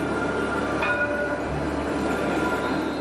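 A tram runs along its line through Sidi Bel Abbès, a continuous close rumble of rolling wheels with a faint metallic squeal and light rail clatter, steady throughout with no talk.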